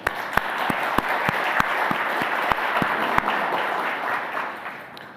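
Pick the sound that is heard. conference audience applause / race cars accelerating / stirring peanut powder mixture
conference audience applause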